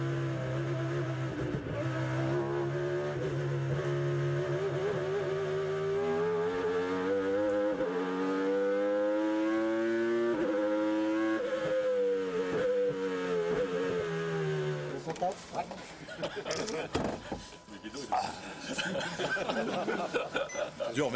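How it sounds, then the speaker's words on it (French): A Renault Espace minivan fitted with a Formula 1 engine roars and climbs in pitch as it revs hard on a racing circuit, then shifts into rougher, choppier bursts as it speeds past, loud and close. "voir cette lourde voiture rugir comme la plus véloce des Formule 1"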